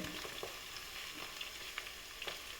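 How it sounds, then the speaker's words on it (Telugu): Onions and green chillies frying in oil for a mutton curry: a constant close sizzle with scattered small pops and crackles, stirring faintly audible, no voices. "కొంచెం ఆనియన్ బ్రౌన్ కలర్ వచ్చే వరకు కొంచెం ఫ్రై చేయాలండి, ఇది మటన్ కర్రీకి."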